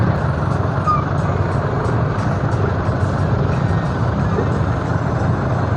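Trucks and cars sit in a road traffic jam, with a continuous low engine rumble and a steady mix of idling vehicles close by, a few faint higher blips scattered above the drone.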